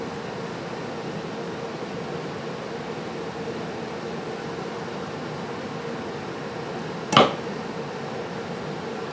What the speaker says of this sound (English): God, I love the way it sounds whenever that arm comes down.